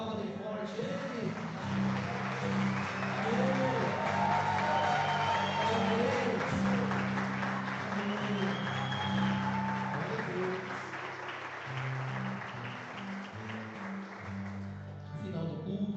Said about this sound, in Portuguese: Aplauda bem forte Ele.